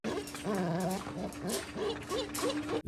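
Dog whimpering in the film The Thing, a run of high, wavering whines and yips repeating across the moment, fairly close and clear over a steady background hum.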